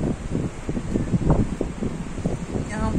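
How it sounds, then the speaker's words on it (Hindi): Strong wind of a storm buffets the microphone in a continuous low roar with gusty swells, close and loud, while a person talks under it. "यहाँ बहुत तेज चल रही है हवा"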